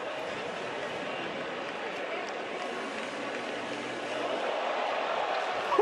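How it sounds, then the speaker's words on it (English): Stadium crowd at a 200m race at the USA Championships, a broad, distant roar that holds steady and then swells toward the end. "And the crowd reacting to that as well as they see it in stadium"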